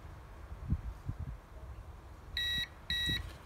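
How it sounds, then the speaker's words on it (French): Two short, bright electronic beeps sound close together while a Pujol remote is being programmed, following a few soft handling knocks and clicks. "Ces deux petits bips signifient que la mémoire est fermée."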